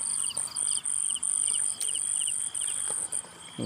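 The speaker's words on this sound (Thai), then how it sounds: "เสียงจิ้งหรีดร้องอยู่เนี่ย" Steady, loud field cricket chirping in rapid pulsing trills, close by, with brief gaps between bursts and no voices.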